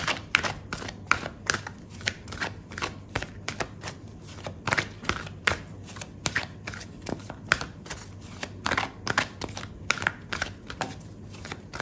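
Tarot cards shuffled by hand, a dense run of quick crisp riffling clicks and snaps sounding close and continuous for several seconds without speech.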